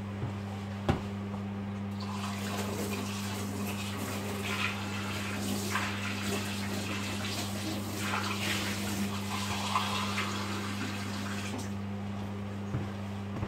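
Water running steadily from a tap indoors, a continuous hissing gush that stops abruptly near the end, with a couple of faint knocks and a low background hum.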